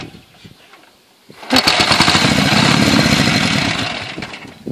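A PMZ-750 Podolsk motorcycle engine starts after a quiet moment and settles into a loud, rough, continuous running rumble close by.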